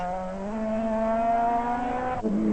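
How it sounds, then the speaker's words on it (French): A rally car, likely an Opel or Escort from a 1993 Flemish road rally, holds a steady high engine whine that rises, then cuts sharply near the end before picking back up, loud and close. "Après avoir beaucoup cherché, Depping tire aussi le frein à main."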